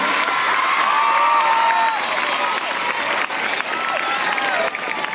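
An audience at a student guidance talk applauds steadily and loudly throughout, a dense, continuous wash of clapping without pause.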